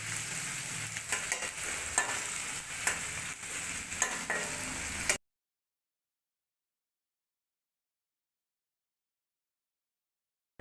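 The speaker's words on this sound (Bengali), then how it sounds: "নুন, দিয়ে আলুর সাথে পেঁয়াজটাও ভালো করে লাল লাল করে ভেজে নিব।" Potatoes and onion fry in a pan with a close, continuous crackling sizzle and a few stirring knocks for about five seconds before it cuts off to silence.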